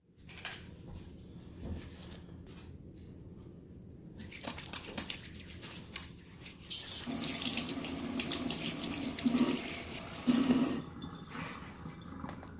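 Tap water runs into a sink during handwashing, with intermittent gushes and splashes, quiet stretches between, and a stronger steady flow toward the end, close and moderately loud.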